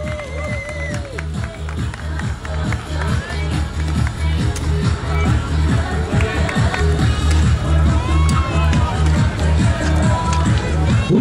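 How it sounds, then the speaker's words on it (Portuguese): Outdoor crowd at a mountain bike race finish applauding and cheering for the women's elite champion, dense sustained clapping throughout, loud and steady, with a voice on a loudspeaker talking over it. "Quem acha que merece bate palmas?"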